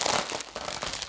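Crinkly plastic rustling up close, a steady run of crackles and crunches lasting about a second with no voices.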